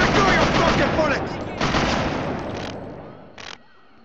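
Automatic gunfire bursts in Scarface: The World Is Yours, a loud close rattle that fades, followed by a few shorter bursts and a final brief volley.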